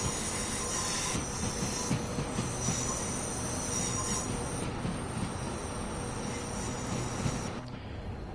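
A Pendolino train in Train Sim World pulls into Crewe station, platform 11, with a dense, continuous rolling roar, high metallic wheel squeal and rattling carriages that ease slightly at the very end. No voices are heard.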